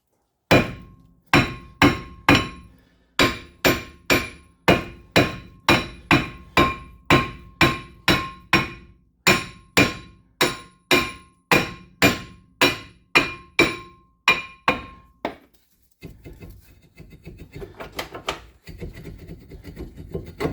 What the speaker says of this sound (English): So what we're going to do is get our hammer out.